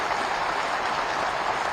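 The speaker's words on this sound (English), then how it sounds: "show our chief guest the happiness which we have created to join the battalion of chartered accountants with a huge round of applause non-stop" Dense steady clapping from a large audience at a chartered accountants convocation ceremony, an even wash of applause with no breaks and no voices.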